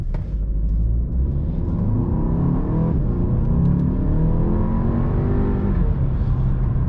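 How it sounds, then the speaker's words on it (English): A 2016 Audi A3 2.0T with a 220-horsepower turbocharged four-cylinder accelerates hard. Its loud, steady engine drone climbs in pitch, dips briefly around a gear change, then climbs again with no talking. "this car picks up pretty quick"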